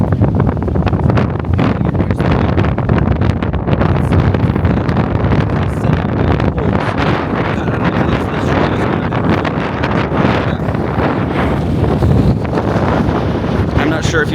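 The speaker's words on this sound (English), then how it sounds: "God, that wind is wild. This is blowing everyone away" Loud, constant wind buffets the microphone, a heavy rumbling roar that persists for the whole stretch, with any voices mostly buried beneath it.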